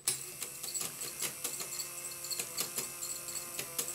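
The gears, worm drive and sprung crank of a gymnast automaton run steadily, giving a busy, close mechanical ticking and clicking in a regular rhythm, with no talk.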